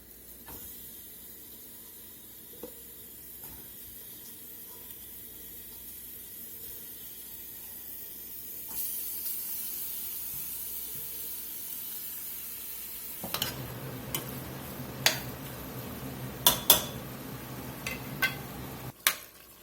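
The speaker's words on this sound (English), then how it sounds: "The first thing we're going to do is just get this ground beef cooked down enough to get this fat out of it" Ground beef cooking down in a pot as its fat renders out: a soft, steady hiss that swells into a louder sizzle partway through, with occasional sharp pops and clinks near the end.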